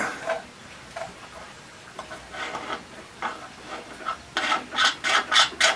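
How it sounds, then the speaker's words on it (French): Repeated rasping strokes of a metal jig rubbing against jointer knives, faint at first then growing louder and quicker toward the end, close by with no talk. "On entend très bien le frottement"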